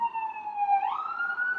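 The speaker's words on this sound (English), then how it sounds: "So we can acknowledge the siren" A siren wails outside, a steady high tone that rises in pitch partway through as the vehicle passes, moderately loud and heard alone with no talking.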